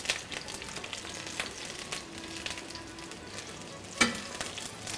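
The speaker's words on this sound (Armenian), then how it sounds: "Եթե տեղ ունենք, կարող ենք նաեւ սոխը տապակել, չէ՞։" Onions frying in a pan give a soft, continuous sizzle with light crackles and occasional stirring clicks, one sharper pop near the end, with no talking.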